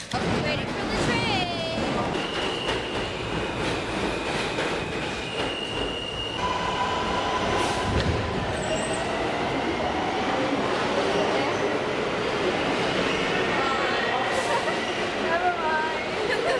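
A train rolls past with steady rumble, squealing wheels and clattering railcars, loud and continuous, while people talk over it.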